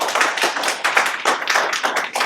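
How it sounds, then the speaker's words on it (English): Audience applause at a political debate as the moderator is welcomed, fairly loud and close, with clustered bursts of clapping that swell and dip in uneven waves. "let's give a round of applause for him"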